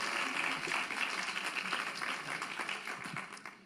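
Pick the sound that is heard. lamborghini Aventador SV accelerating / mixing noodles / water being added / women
women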